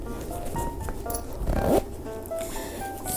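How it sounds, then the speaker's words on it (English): A zipper is drawn open along a fully padded guitar gig bag, a close, rasping pull with a brief louder burst midway and fabric rustling around it. "Now let's try to open the guitar bag."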